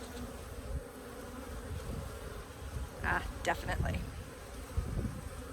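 Honeybees buzz steadily around an open hive infested with parasitic mites during a frame inspection, a close, continuous hum with someone speaking briefly over it.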